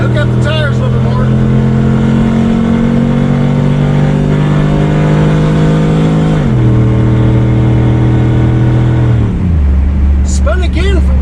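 A drag racing car launches down the strip at Speed World Orlando with its engine roaring loud and close. The steady pitch of the run drops sharply twice as it shifts gears, and the engine drowns out everything else.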